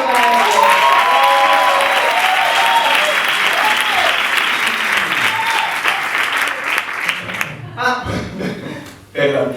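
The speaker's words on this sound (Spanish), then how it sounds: "Un fuerte aplauso, ¿no?" An audience breaks into loud, sustained applause for a pianist at a live music show, with cheers and a few chuckles mixed in before the clapping thins out near the end.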